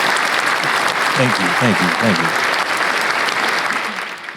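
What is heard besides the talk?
audience applause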